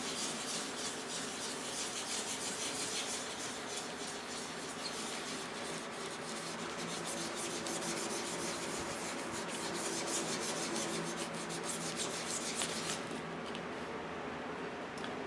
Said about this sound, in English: And now I'm going to start rubbing.